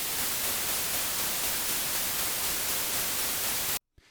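Steady loud hiss of white noise spread evenly across the range, cutting off abruptly to near silence just before the end.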